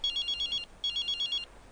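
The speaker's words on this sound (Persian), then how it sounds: "این تلفن کی است؟" A telephone rings in a home in two quick electronic trilling bursts separated by a short pause, clear and alone with no talk.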